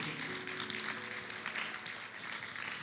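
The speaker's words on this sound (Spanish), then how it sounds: "demos un fuerte aplauso a Dios por eso" A church congregation claps during a sermon, a brief, dense stretch of applause with a faint tone and voices underneath.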